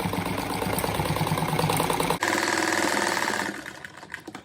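A sewing machine stitches fabric to close up a cat-shaped door stopper, a steady rapid mechanical whir running close and loud, with a brief break partway before the stitching resumes and then trails off.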